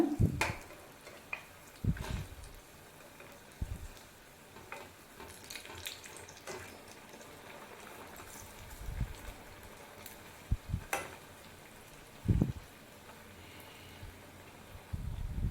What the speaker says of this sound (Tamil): மீடியமாக வச்சு ஃப்ரை பண்ணிக்கோங்க